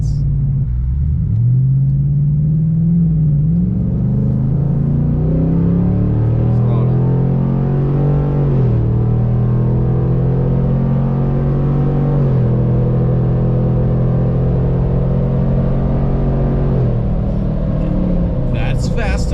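A truck with a newly fitted exhaust pulls away and accelerates, a loud, deep rumbling engine note that climbs through several gear changes and stays close and strong throughout.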